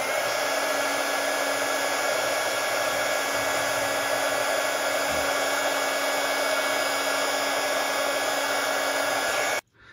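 A heat gun shrinks heat shrink tubing over fiber optic strands on a model Millennium Falcon build, blowing as a steady, loud, close roar that runs unbroken for about ten seconds before cutting off.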